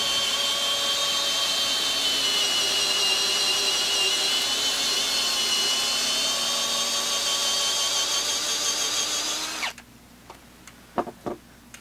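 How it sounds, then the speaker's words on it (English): A peg hole is drilled into a timber purlin for trestle timber framing, with a loud, steady drilling whine for nearly ten seconds. It stops abruptly and is followed by a few light knocks. "I don't want to just carry on drilling down and down and down"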